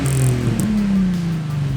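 An Infiniti G35 with an ISR single exit exhaust, its engine note rising briefly in a short rev before dropping back to a steady, loud idle, heard close with no talk.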